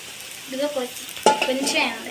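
Dosa cooking in a little oil on a pan gives a soft sizzle with light scraping and a sharper clink partway through, close up and fairly quiet, with no talking.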